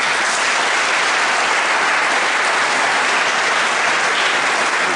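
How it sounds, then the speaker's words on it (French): Thunderous applause from a large audience at a tourism and congress office annual meeting in Mulhouse, a loud, dense and unbroken roar of many hands clapping evenly from start to finish. "un merci et un tonnerre d'applaudissements à Guillaume Colombo, le directeur de l'OTC"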